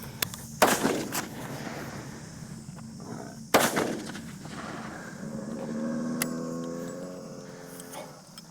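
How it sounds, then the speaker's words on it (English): Gunshots ring out during a buffalo hunt in swampy country: two sharp, loud reports roughly three seconds apart, each followed by a brief rumble, then a quieter spell with voices murmuring. "A little bit of a gunfight, huh?"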